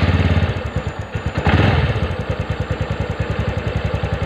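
TVS Ntorq scooter engine idling after a self-start, a close, loud, even chugging putter that briefly surges before settling into a steady rhythmic beat, with no talking.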